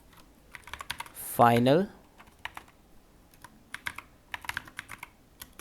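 Code in the Dart language being typed on a computer keyboard, with quick irregular key clicks running throughout and a voice briefly speaking over them in the middle.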